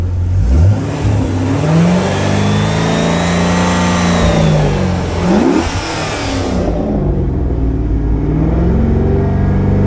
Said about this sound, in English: Give you a few revs.